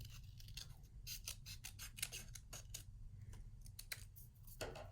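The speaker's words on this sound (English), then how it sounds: "take the red piece of construction paper and cut out a long tongue" Scissors snip through red construction paper in quick, crisp cuts, close and clear and fairly quiet, with no talking.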